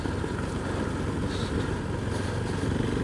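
A KTM 390 Adventure motorcycle rides off road in second gear, its single-cylinder engine droning steadily and close without a break, with a little wind noise.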